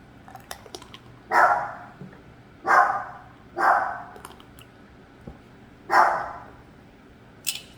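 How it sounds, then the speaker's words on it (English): Dogs bark in a backyard while watching a rabbit through a glass door: about five sharp, fairly close bursts spread over several seconds, with quiet gaps between them. "I think the dogs are looking at the rabbit through the glass door in the backyard."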